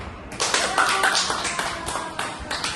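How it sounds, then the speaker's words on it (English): A group claps together at the end of a simulated classroom lesson, a burst of close, brisk, overlapping claps lasting a couple of seconds, with faint voices mixed in. "Now, give yourself a big clap."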